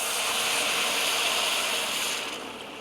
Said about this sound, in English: And I'm gonna add in the water. I'm starting with 3 cups of water.